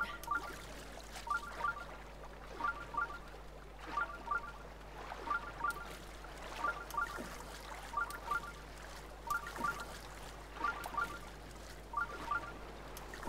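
Waterfall in the video game Zelda: Breath of the Wild, a steady rushing wash of falling water with a low hum beneath, joined by regular repeating chime-like game tones; no talking.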